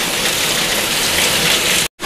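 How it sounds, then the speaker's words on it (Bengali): Heavy, sudden rain pours down steadily as a loud, dense hiss with no voices, then cuts off abruptly near the end. "ভীষণ জোর বৃষ্টি হচ্ছে।"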